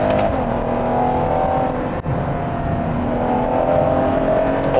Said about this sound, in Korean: 배기음 좋아 다운시프트